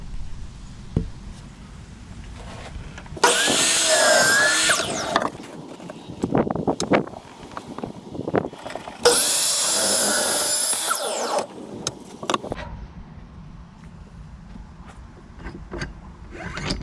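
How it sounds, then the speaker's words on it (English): A power saw cuts wooden boards to length for a rustic coffee table, two loud whining bursts of a few seconds each, separated by quieter clatter of handling the wood. "I'm going to bring the saw down without cutting and just see that it's going to cut the boards to the exact same length"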